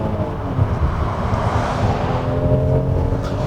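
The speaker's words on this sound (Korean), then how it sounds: "그럼 지금부터 현대 팰리세이드와 함께 달려보겠습니다" Engine of a 2019 Hyundai Palisade 3.8 AWD under acceleration on a road test, a steady loud drone with rising harmonics mixed with road and wind noise, heard from inside the cabin.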